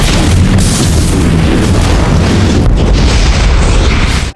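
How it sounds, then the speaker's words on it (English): A massive explosion in an underground tunnel after a car crashes into pipes, a loud continuous deep roaring boom with rumbling debris that fills the whole clip before cutting off abruptly. "After the explosion, smoke fills the tunnel, and Rapp finally finds the chained Hurley."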